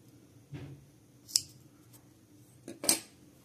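Scissors snipping material for a pair of children's Crocs, two separate crisp metallic cuts about a second and a half apart, close and clear in a quiet room with faint handling noise between.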